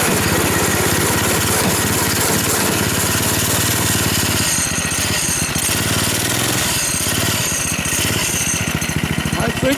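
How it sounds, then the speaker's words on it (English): A goofy cart's engine runs steadily and loudly close by, with a rough, clattering drone from a noisy transmission. Irregular mechanical knocks fill the whole stretch. "I think that noise is coming from my transmission."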